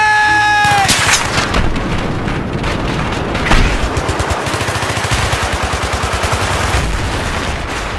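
Battlefield 3 gunfire aimed at a tank: a loud, sustained rapid rattle of automatic shots with dense, echoing battle noise throughout, following a brief tonal game sound at the start.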